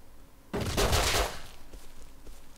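Gunfire from the video game Rust breaks out in a single loud burst of rapid shots, fading into a quieter rattling tail over about a second.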